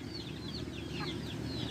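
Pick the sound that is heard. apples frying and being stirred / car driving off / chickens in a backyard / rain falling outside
chickens in a backyard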